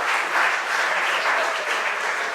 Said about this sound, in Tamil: நல்லா கைதட்டி பாராட்டு.